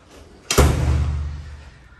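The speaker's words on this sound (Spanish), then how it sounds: "Vamos a cerrar la puerta." A door is shut in the entrance hall of an apartment, giving one solid, close thud about half a second in, followed by a short resonant decay in a quiet room.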